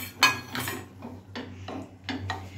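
A spoon scrapes and clinks against a metal cooking pot in a rhythmic series of strokes while gravy thickened with cornflour is stirred, close and fairly loud.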